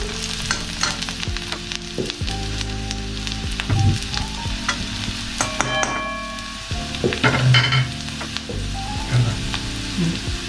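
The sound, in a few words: green chilies frying in oil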